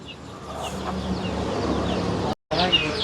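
Native country chickens clucking on a farm, a few short clucks and calls near by over a low background, with people talking at times.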